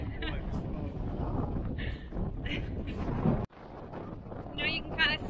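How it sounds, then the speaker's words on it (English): Gusty Icelandic wind near a glacier roars and buffets the microphone in a loud, steady low rumble, cutting out abruptly for a moment before surging back, with a voice briefly heard. "Ah, the Icelandic wind. Nothing like it."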